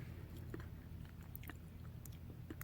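Crispy tomato and herb croutons are chewed close to the mic, with soft crunches and bites coming irregularly over quiet background, no talking.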